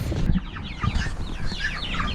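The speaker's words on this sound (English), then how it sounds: "I thought today I would give you an update on our meat chicks" Meat chicks chirping and clucking in a brooder pen, a busy overlapping chorus of short, rising peeps, close and continuous, with a thump and faint rustling beneath.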